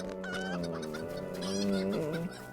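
Chickens in a video game cluck and warble steadily for a few seconds, fairly close and clear, with no talking over them.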